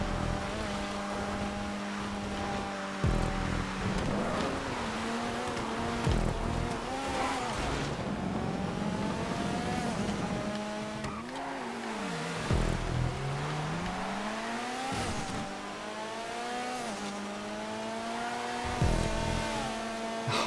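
Race cars roar around a GTA 5 race track in the video game, with loud, continuous engine drones rising and falling in pitch as cars accelerate, shift and pass close by.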